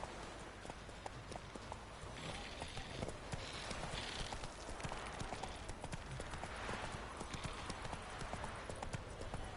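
Roach, the horse in The Witcher 3: Wild Hunt, gallops steadily with a rapid clip-clop of hooves over faint ambient wind and rustling. The hoofbeats are moderately close, with no talking over them.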